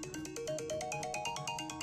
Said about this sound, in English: today we're going to focus on ringtones